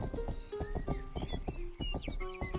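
Rhythmic horse hooves clip-clop steadily and close in the video game Rustler, with a horse neighing over the trotting and bright game sound effects layered on top.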